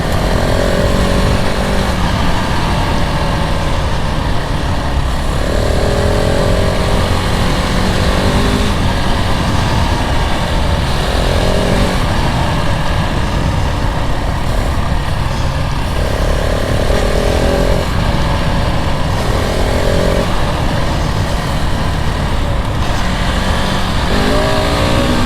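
A 2022 KTM 690 Enduro R single-cylinder motorcycle engine drones loudly and steadily while riding, with repeated rises and falls in revs, close and continuous with no talk.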